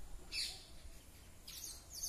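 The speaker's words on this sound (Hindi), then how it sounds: "ये बया पक्षी है" Baya weaver birds chirp around their half-built nests in trees, two brief thin high calls over faint outdoor background.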